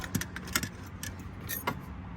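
Metal kitchen utensils such as steak knives, spoons and tongs clink and jangle in a camping kit inside a Mitsubishi Express van, several light scattered taps over a low background rumble.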